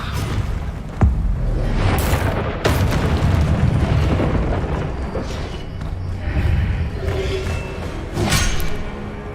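Explosive Confringo spell blasts in Hogwarts Legacy: heavy booming bursts and whooshing impacts repeat every second or two, loud and close over constant combat rumble.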